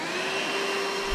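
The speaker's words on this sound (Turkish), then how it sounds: "Bu süpürge gibi bir şey herhalde." A vacuum cleaner drones in a GTA 5-style video game, a steady whining motor hum held evenly throughout, fairly loud and alone, with a brief low thump at the end.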